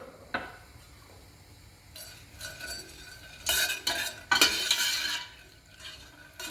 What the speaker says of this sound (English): I put the oil in the pot and I fry the nuts.